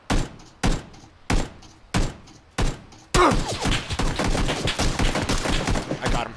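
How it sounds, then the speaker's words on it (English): Gunfire in a shooter video game: five sharp evenly spaced loud shots, then a dense continuous stretch of rapid firing and impacts, with no talk over it. "Shooting at me."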